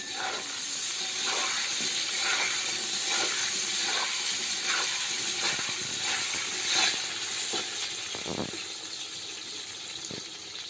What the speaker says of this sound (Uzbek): Endi kartoshkamizni qovurib olamiz.